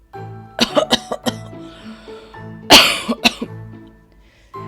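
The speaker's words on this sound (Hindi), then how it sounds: "कुटिया नजर आती है जिसमें से खांसने की आवाज आती है" An old woman coughs repeatedly in short bursts, a hoarse throaty hack followed by a strong harsh cough and a few weaker ones, close up, in a cartoon.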